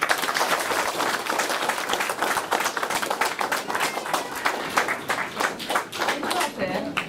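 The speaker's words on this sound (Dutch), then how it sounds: "Ik zou graag een groot applaus willen." A loud, steady crowd of hands claps at a royal honour ceremony in the Netherlands, continuous and close, with voices talking beneath it throughout.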